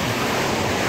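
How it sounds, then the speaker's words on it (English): Turbulent ocean waves crash and churn against volcanic rocks on a Maui shore, a steady, dense roar of surf close by with no voices. "Pretty turbid seas."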